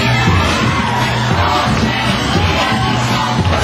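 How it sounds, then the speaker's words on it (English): Crowd at a bodybuilding posing show, many women screaming and cheering loudly, a dense continuous roar of yells and whoops throughout with no clear speech. "I hear quite a few ladies in the audience screaming for this man right now"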